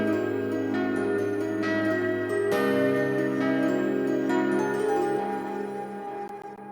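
A guitar part in a pluggnb mix plays steady sustained chords at a constant level, with a chiming, bell-like brightness and a few note changes, fading slightly at the end.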